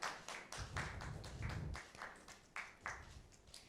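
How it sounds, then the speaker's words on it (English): Sparse, scattered clapping from a small audience at a heritage day event, a few distinct hand claps spaced irregularly, fairly faint and distant, with no talking over it. "A round of applause, please."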